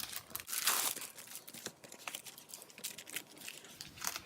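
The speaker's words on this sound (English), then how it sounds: "So let's open the package." A crinkly plastic package holding a Kiwi Lane scrapbooking kit is opened up close, giving loud crumpling and crackling with sharp tearing bursts that fade into lighter, scattered rustles. No one speaks.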